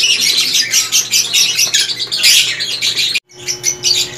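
Young pet birds, fledglings, squawk and chatter loudly and continuously up close in harsh overlapping bursts, with a brief break near the end before the calling resumes.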